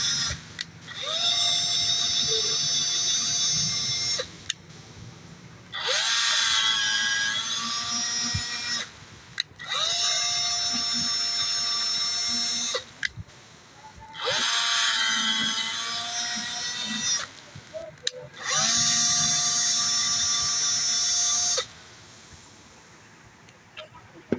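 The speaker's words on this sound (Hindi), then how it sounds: "तो हम ड्रिल के ज़रिए इसमें चूड़ी निकालेंगे" A power drill cuts threads with a tap into a metal heat sink for a 3 mm screw, whining loudly in five long bursts of several seconds each with short pauses between them, close up.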